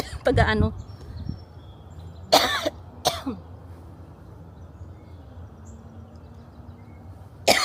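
A few sharp coughs ring out close by, one burst at the start, then two quick coughs in the middle and another at the end, with quiet between.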